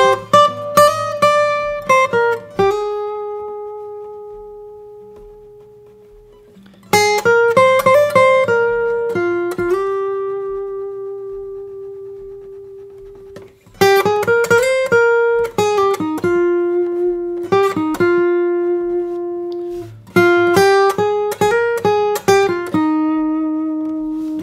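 Acoustic guitar plays the opening phrase of a song alone, in four plucked, sustained melodic lines, each note ringing out and decaying before the next phrase begins, up close and clear.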